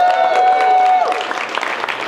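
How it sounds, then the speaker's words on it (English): Audience applause for speakers at an event, clapping breaking out briefly under a lingering tone before it thins out. "can we give all of the speakers a big round of applause?"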